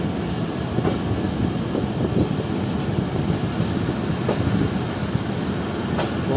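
Steady rumble of the Baba Fareed Express at Ghotki station platform, a loud continuous rolling roar with faint rhythmic clicks, heard up close with no voices.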